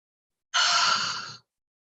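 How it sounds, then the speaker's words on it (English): A single deep breath, drawn in or let out during a guided heart-focused breathing exercise, close and fairly loud, lasting just under a second and set in silence. "take deep breaths in and out, and continuously take a deep breath in"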